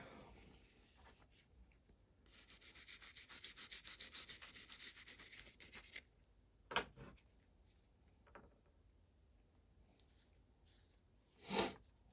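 Rust and carbon are scrubbed off Savage Mark II rifle parts in a steady hissing rub that lasts about four seconds, followed by a few sharp scrapes and taps in a quiet room.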